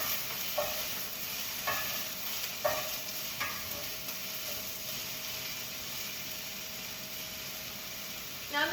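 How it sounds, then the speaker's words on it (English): Garlic and kale sizzling in a hot pan while being stirred, a steady frying hiss with a few soft scraping stirs near the start, heard up close with no talking. "I'm gonna go ahead and add in the rest of the garlic and give that a good stir"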